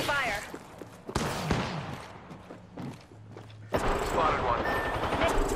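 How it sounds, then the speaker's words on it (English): A video game battle royale arena match with bursts of rapid gunfire and thuds, mixed with footsteps and players talking over the action. "Taking fire."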